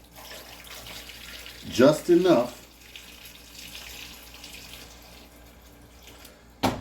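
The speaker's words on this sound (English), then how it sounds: "I'm gonna put some water in here" Water poured into a cooking pot holding a pork roast for a one-pot meal, a short splashing burst midway under quiet kitchen ambience, with someone talking briefly.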